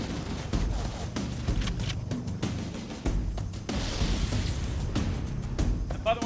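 A cluster of needler explosions in Halo: Combat Evolved, rapid popping bursts and crackling blasts layered over continuous game noise, loud and dense throughout.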